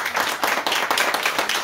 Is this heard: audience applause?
yes